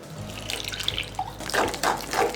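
Half a glass of water poured onto soaked sabudana (sago pearls) for Odia sagu poda pitha batter, a close splashing, trickling pour in two bursts with no talk.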